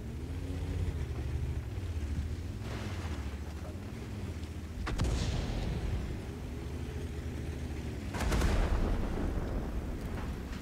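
Over a steady tank engine rumble in World of Tanks, two heavy artillery blasts land several seconds apart, each a sharp broad crack with a rolling tail.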